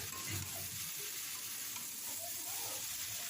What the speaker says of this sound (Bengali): তো আমি ভালো করে মশলাটা দিয়ে ছোলা আর আলুটা ভালো করে কষিয়ে নেব